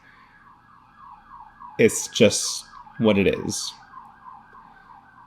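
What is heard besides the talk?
siren outside in the street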